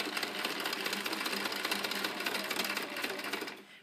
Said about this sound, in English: and sew over the loop.